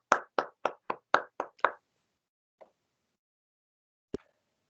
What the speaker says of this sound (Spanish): Quería desmutear el micrófono solamente para aplaudir